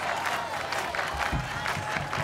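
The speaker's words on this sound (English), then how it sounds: "The crowd's going nuts right now." Crowd applauding and cheering at the American Ninja Warrior 2015 Kansas City Finals, a dense continuous roar of clapping with commentary voices over it.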